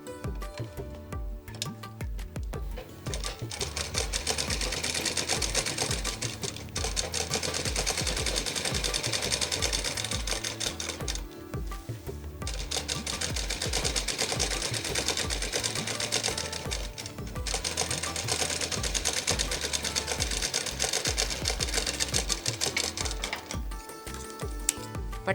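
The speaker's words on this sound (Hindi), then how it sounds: "इसको फोल्ड करके वहाँ सिलाई करेंगे" A sewing machine stitches a folded strip along a skirt in several sustained runs separated by brief pauses, its rapid mechanical clatter loud and close.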